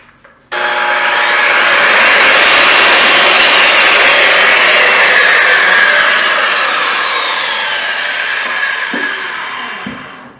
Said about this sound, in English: And I've also got a small angle grinder, but you can also use a large angle grinder.